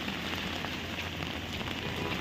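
Rain falls steadily in Puri, a soft, even wash of drops hitting surfaces, faint and continuous throughout with no voices.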